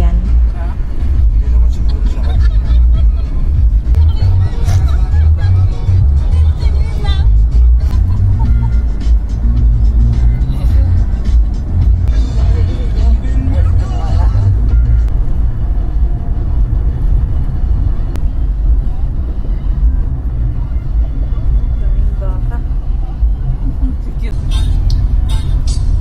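A vehicle jolts along a rough mountain road between Tarlac and Zambales, its engine and road rumble loud, steady and close throughout, with faint voices underneath.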